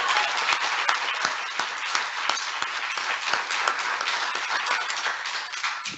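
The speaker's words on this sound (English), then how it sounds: "another round of applause for all of our winners tonight" An audience at the Arc Erie County annual meeting claps for award winners, dense, sustained applause from many hands filling the room at full strength throughout.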